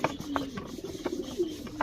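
Pigeons cooing close by in repeated soft, low calls at a breeders' loft in the Philippines, with a steady rhythm over light background noise.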